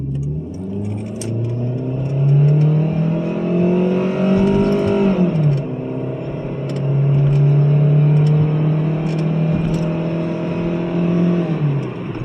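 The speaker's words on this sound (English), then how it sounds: "Show you guys the acceleration, which I'm going to floor it." A 1998 Mitsubishi Mirage DE with a 4-cylinder engine accelerates at full throttle onto a busy road. The loud engine drone climbs steadily in pitch, dips at a gear change midway, then rises again, heard from inside the car.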